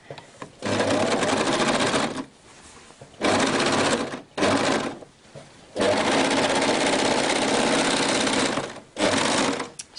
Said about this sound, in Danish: Og så er det en tur over til overlockeren.